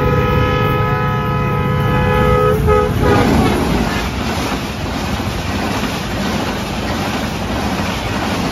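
A train horn blares for about three seconds as the train approaches, then the loud rushing roar of a high-speed train passing continues close by.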